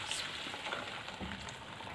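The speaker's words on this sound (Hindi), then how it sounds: "अब 1 मिनट हम इन सब चीज़ों को पकाएंगे ऑयल में जी" Vegetables sizzle and fry steadily in hot oil for a hot Schezwan soup, a dense continuous crackle with no breaks and no talking.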